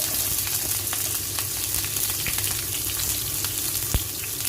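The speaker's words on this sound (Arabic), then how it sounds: "انزل معلقه زيت اسخنها كويس جدا، وانزل بشرايح البصل فيها الاول" Onion slices sizzle steadily in a pan of well-heated oil for sausage and liver, a dense continuous frying hiss with scattered pops and one sharp crackle near the end, close and fairly loud, no voices.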